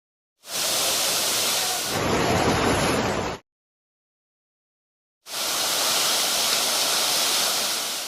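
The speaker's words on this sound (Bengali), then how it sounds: "প্রবল বেগে পানি ঢুকেছে এলাকায়।" Floodwater from the Gomti river rushes forcefully into a village area, a loud, dense roar heard in two long bursts separated by abrupt silence.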